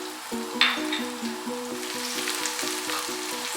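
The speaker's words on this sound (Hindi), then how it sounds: "अब इसमें लहसुन अदरक की पेस्ट शामिल कर देते हैं।" Onions sizzle steadily in hot oil with garlic ginger paste, cooking for a deghi-style spinach and mutton dish. The frying is constant and close, with a brief sharper spatter near the start and low tonal sounds beneath, and no talk.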